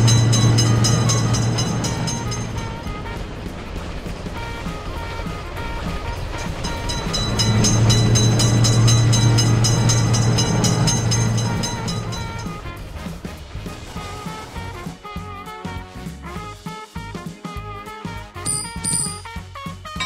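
A train rumbles past a road crossing in the game Railroute, with a low, droning engine tone that swells and fades, followed by lighter clattering and bell-like dings near the end.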